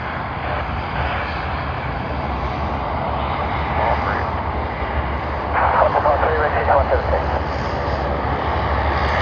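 A Qantas airliner lands at Sydney Airport, its engines a broad, steady roar that swells in the middle and stays fairly loud, with voices talking over it.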